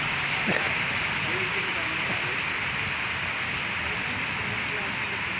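Rain falls steadily on a road lined with shops, making an even hiss, with faint voices now and then beneath it.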